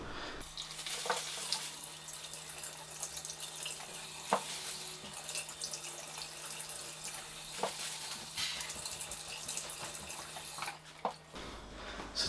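Tap water runs steadily into a sink while sweet potatoes are washed, a continuous close hiss and splatter with a few brief knocks, ending with a sudden shift near the end.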